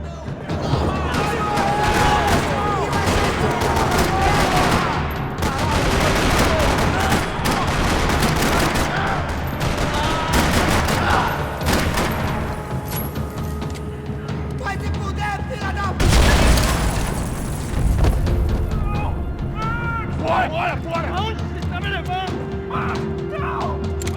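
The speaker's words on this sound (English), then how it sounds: "Another parking lot rattling with gunfire." Sustained gunfire fills a parking-lot firefight in the Max Payne 3 video game, dense bursts of shots and booms rattling almost nonstop at close range, with a heavier blast near the middle.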